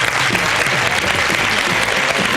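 A television studio audience gives dense, loud, continuous applause as the entertainers Bertín Osborne and Paco Arévalo are welcomed. The clapping is a thick wash with no individual claps standing out.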